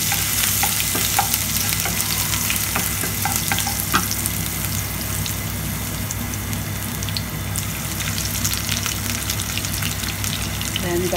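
Vegetables sizzle in oil in a very hot wok, a dense, continuous frying crackle up close with scattered pops and stirring clatters, steady across the whole stretch and heard without talk.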